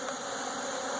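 Honey bees swarm around a bee yard while queens are being held, their steady droning buzz filling the air continuously at close range with no talking.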